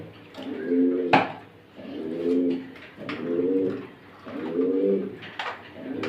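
A breeding pair of Stasser pigeons coos up close in a farm loft, repeating low rolling phrases about every second and a half, with a brief clatter partway through.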